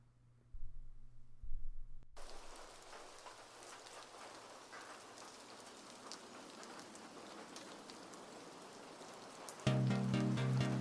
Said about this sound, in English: the first thing we're going to add is the sound of rain